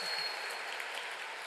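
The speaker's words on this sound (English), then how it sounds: "And yes, you may applaud" Steady applause from a graduation ceremony crowd, fairly faint and continuous for a brief moment.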